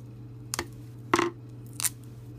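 Scissors snipping off excess tape during a DIY school-supplies craft, three short crisp cuts spaced apart, close and fairly quiet over a steady low hum.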